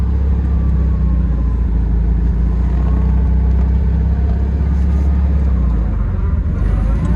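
A 1958 VW Karmann convertible drives along with its air-cooled engine giving a steady low rumbling drone and road noise, loud and continuous throughout.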